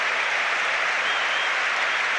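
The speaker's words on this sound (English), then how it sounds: "this standing applause on 31 minutes is for a BBC Radio Derby commentator, Colin Bloomfield" A stadium crowd gives a standing ovation during a football play-off final between Derby County and QPR, a steady, even wash of distant mass clapping heard alone.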